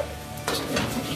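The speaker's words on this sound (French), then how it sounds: "Quand on commence à entendre ce grésillement, on met de la sauce soja, pas trop." Shrimp and chicken fried rice sizzles in a hot pan, a steady close frying hiss with a sharper stirring scrape partway through, brief and without voices.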